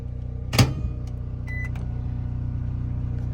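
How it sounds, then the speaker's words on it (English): A microwave oven hums steadily with a low mechanical drone, after a brief clunk near the start and a short faint beep. "Now we've got to close it up and microwave it for 2 minutes."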